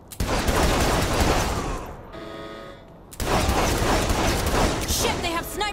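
Sniper and gun fire in Saints Row 3 on hardcore difficulty, dense and loud with rapid crackling bursts and mechanical clatter, dropping away briefly into a quieter tonal stretch before the loud barrage resumes.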